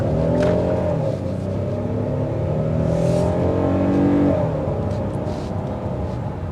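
A 2024 Hyundai Palisade Calligraphy with a 3.8-liter V6 pulls hard under acceleration, its engine note climbing steadily with a loud, continuous drone and whir from inside the cabin.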